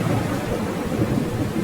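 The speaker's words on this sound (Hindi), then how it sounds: "ये तुम्हारी पहली बारिश है।" Steady rain pours down with a deep, rolling rumble of thunder in a cartoon, continuous and loud throughout with no voices.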